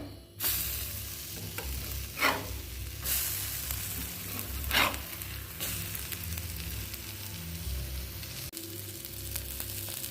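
Dosa batter sizzles on a hot dosa griddle stone, a steady close crackle broken by a few brief scraping strokes, with no one talking.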